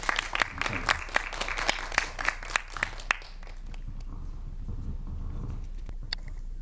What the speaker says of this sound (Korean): 감독님 환영의 박수 한 번만 더 주세요.